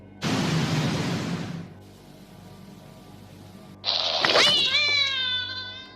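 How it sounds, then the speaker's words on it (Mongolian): A cat meows and caterwauls in a Japanese horror film, with loud drawn-out wailing cries at close range after a burst of harsh noise and a quieter stretch. "дахиад л залгаж муурын мявлах дуу гарсаар л байна"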